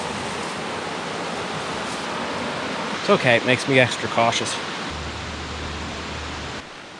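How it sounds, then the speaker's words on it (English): Rushing water from waterfalls close by fills the scene as a steady broadband roar, with a person speaking briefly over it midway. "Oh, I'm excited to get over these waterfalls. They're not far"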